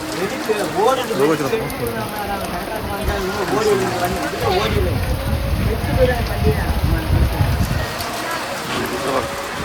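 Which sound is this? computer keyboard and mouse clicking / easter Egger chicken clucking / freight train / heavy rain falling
heavy rain falling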